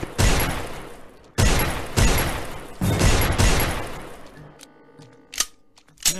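Gunfire rings out in the Wretched VR zombie game, several heavy, booming bursts of shots in quick succession, each decaying slowly, followed by a few scattered quieter clicks and thuds.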